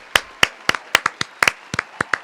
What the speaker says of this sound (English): This applause is for you, California.